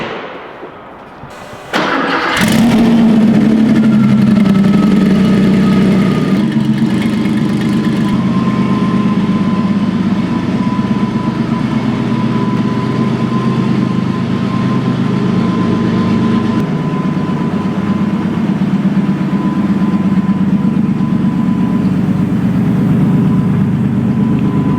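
A Porsche engine cranks and catches, then settles into a loud, steady idle with a low droning hum that continues evenly, close up and without talking.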